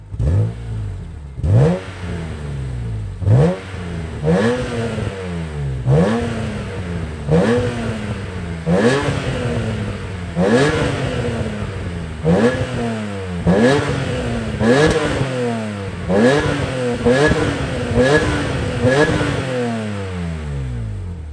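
A BMW E46 M3 engine revs repeatedly, each rise in pitch falling back with crackles between, about a dozen sharp revs from close by.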